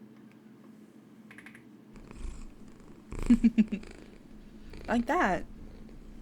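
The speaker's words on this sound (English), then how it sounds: "It's why I also put a purring sound for the head pads." Cat purring sound effect used as a stream alert for head-pat redeems, a few soft purring bursts mixed with short rattly sounds and a voice speaking briefly over it.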